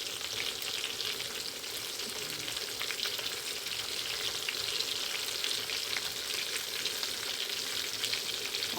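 Breaded pork fries in a pan, giving a loud, steady sizzle and crackle that runs continuously throughout with no voices.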